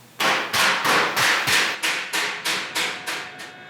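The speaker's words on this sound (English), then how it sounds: "Just hammer and dolly, that's it." Ten sharp metallic hammer blows ring out in a steady rhythm, a hammer striking a car body panel against a dolly, each clang fading slightly toward the end.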